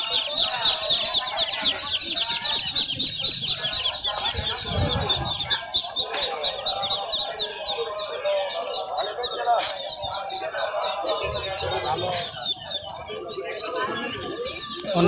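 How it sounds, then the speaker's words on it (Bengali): Quail and other poultry, including ducklings and geese, at a bird market: busy overlapping clucks and high chirps close by, with someone talking over them. "অনেক জাতের কোয়েল পাখি আছে"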